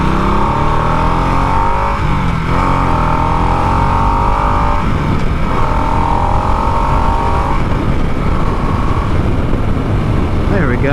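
Motorcycle with a Harley-Davidson Revolution Max engine revving and winding up through higher RPMs, loud and close with rising and falling engine tones, a voice talking over it.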